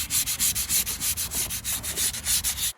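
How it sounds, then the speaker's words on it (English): A pallet wood bench coated in spar urethane is hand-sanded in quick, even back-and-forth strokes, about a dozen rhythmic scrapes close by with nothing else heard. "I'm going to sand it."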